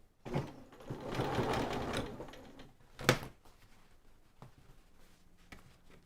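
A sewing machine stitching fabric in a sustained mechanical whir, then quieter stretches broken by sharp clicks and knocks as the work is handled, all close by.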